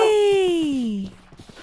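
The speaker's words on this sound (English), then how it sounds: "We also have dogs." A Minecraft dog whimpers in a single drawn-out, high whine that slides downward over about a second, then gives way to faint low background sounds.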